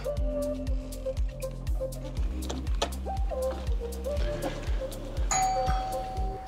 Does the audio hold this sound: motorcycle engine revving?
no